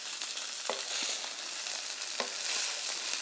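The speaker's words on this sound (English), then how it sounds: "And you hear that wok going." Fried rice sizzles steadily in a hot wok, a dense continuous frying hiss with occasional sharp scrapes or clinks of a utensil stirring, close and fairly loud throughout.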